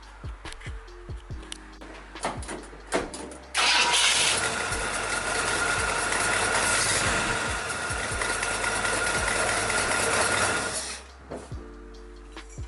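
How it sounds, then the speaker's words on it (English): A Ford car engine with a battery that isn't charging cranks and catches at about three and a half seconds, then idles loudly and steadily for several seconds before dropping back to quiet, with no talk over it. "we're going to start up the engine and we're going to verify that the volt on the battery is charging."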